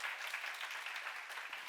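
A church congregation claps steadily during a sermon, a dense and even patter of many hands heard at a slight distance, fairly soft, with no voices over it.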